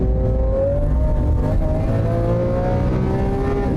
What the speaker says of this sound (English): Wow, those gear changes in Corsa are absolutely berserk.